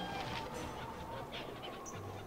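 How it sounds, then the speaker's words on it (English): Chicken clucking in the video game Baldur's Gate Enhanced Edition, a steady low squawking run with a brief high chirp near the end, close and moderately loud with no talk over it. "There's a chicken."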